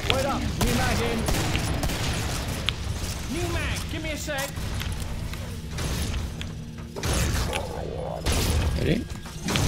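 Harpoon grenade launcher and other weapon fire in the shooter game Killing Floor, a busy run of thumps, booms and gunfire bursts with heavy voice chatter and game noise over the top.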